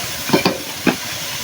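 Cubed potatoes are sautéed with spice paste in a pan for an ilish and bottle gourd curry, giving three short scraping stir strokes over a soft sizzle, close and alone.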